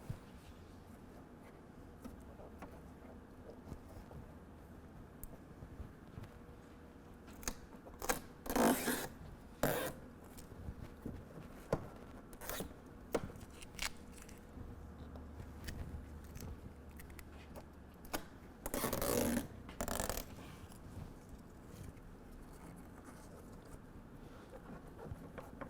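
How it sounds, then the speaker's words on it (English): Adhesive backing peeled off a Husky Liners Aeroskin Lightshield PRO hood protector on a 2020 vehicle, faint quiet rustling with a few sharp crackling peel bursts, two standing out, in a still setting. "Now we can go ahead and start peeling from the center out."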